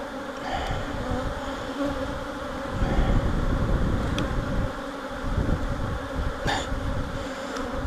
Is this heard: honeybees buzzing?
yes